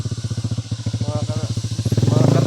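A motorcycle engine runs close by, a loud, rhythmic low putter that rises as the throttle opens near the end, with a voice talking over it.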